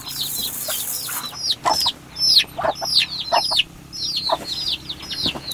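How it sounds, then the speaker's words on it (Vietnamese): Village chickens cluck and squawk up close while waiting to be fed, loud repeated calls in uneven bursts overlapping one another over a quiet farmyard background. "Con gà của bác cũng đòi ăn rồi đấy."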